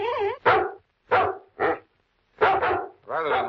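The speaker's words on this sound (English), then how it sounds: "a neighbor phoned the police and complained about the persistent barking of Kimball's dog." A dog barks as a sound effect in an old radio crime drama, with about six loud, close barks in quick bursts separated by short silences.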